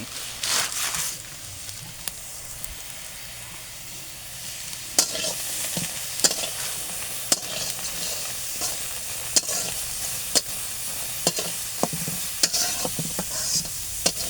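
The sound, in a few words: stirring onions frying in oil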